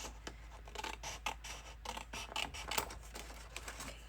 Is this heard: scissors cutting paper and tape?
yes